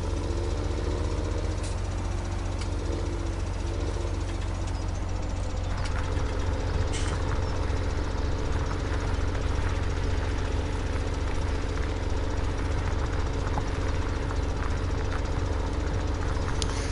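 A farm tractor idles steadily in Farming Simulator 17, a constant low engine drone with mechanical knocking that holds level throughout, alone with no talk.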